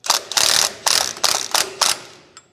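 Ratchet wrench tightening a pinion nut and washer onto a differential yoke, five loud close bursts of rapid clicking in quick succession followed by a small metallic tap.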